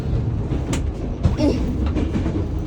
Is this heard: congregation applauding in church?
no